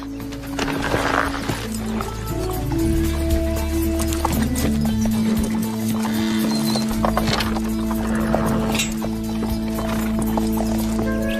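Horse hooves clip-clop steadily as the large horse is ridden, a close, rhythmic clatter that runs throughout, with a whinny and sustained tonal background music underneath.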